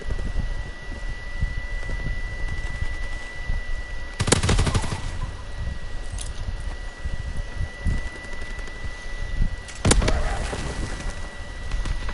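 Aircraft strafing run in the Call of Duty WW2 video game: two loud, short bursts of rapid machine-gun fire break over a steady windy rumble, with scattered distant gunfire between them.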